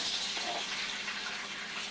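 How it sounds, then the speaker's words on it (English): Water poured into a pan for pork chop brown gravy makes a steady gushing, filling sound, moderately loud and unbroken for about two seconds, with no voices. "So I'm going to put some water in here,"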